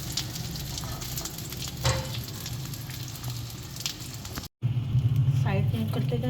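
Chicken tikka pieces sizzle and fry in a pan being cooked for grill marks, giving a steady close hiss with brief clinks, interrupted by a momentary cut, then a louder burst of frying.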